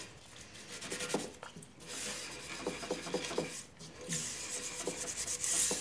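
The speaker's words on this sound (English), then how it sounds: "let the denatured alcohol do its job, and then just start scrubbing" Softened shellac is scrubbed off a laminated wood rifle stock with denatured alcohol. Close, continuous rasping rubs repeat in short back-and-forth passes with brief pauses between them.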